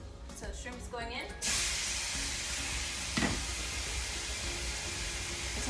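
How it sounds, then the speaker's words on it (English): Raw shrimp drop into a hot pan and start sizzling, a sudden loud burst of frying hiss that then holds steady at close range, with a voice talking briefly just before. "So the pan is hot, so the shrimp's going in."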